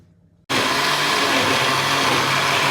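A blender abruptly starts after a half-second of near silence and runs loudly and steadily, whirring through a mixture of kefir, egg and crumbled bryndza cheese.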